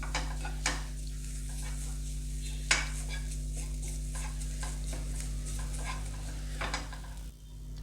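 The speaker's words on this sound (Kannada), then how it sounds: "1/2 ಕಪ್ಪಷ್ಟು ಕೊಬ್ಬರಿ ತೊಗೊಂಡಿದ್ದೆ, ಅದನ್ನು ಹಾಕ್ಕೊಂಡು ಫ್ರೈ ಮಾಡ್ಕೊಂಬಿಡೋಣ. ಇದು ಲೈಟ್ ಫ್ರೈ ಆದರೆ ಸಾಕು." Half a cup of grated dry coconut lightly frying in a pan, heard as quiet sizzling under repeated scraping stirs and spatula clinks against the pan, over a steady low hum, with no talking.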